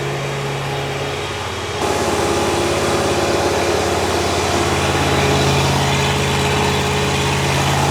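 A junkyard Ford 289 V8 that sat for over 45 years runs steadily on an engine dyno, a loud continuous drone that steps up slightly in level after the first two seconds and holds there.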